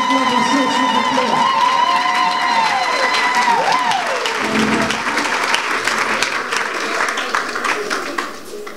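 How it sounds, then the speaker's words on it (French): Applause and cheering fill a graduation ceremony for a promotion of primary school teachers at ENI St Paul in Gabon, greeting the class godfather. Dense, steady clapping runs throughout, with high vocal shouts and ululating calls riding over it. "vos acclamations, s'il vous plaît"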